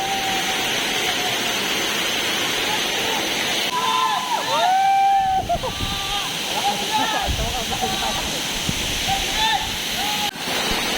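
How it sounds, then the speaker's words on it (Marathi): Waterfall at Navlai Devi in Guhagar, Konkan, roaring loud and steady throughout, with brief whistling tones and voices rising over the constant rush of falling water. "सुंदर असा वॉटरफॉल आमच्या कोकणामध्ये पाहिलं"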